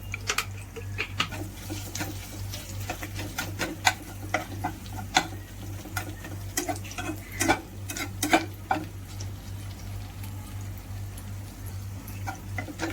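Spice paste of mustard seeds, cumin, ginger, garlic and chilli with asafoetida and turmeric being stirred in a hot pan for banana vada, with steady scraping ticks and clicks of a spoon over a low sizzle and a constant hum.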